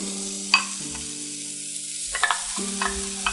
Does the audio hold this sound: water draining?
no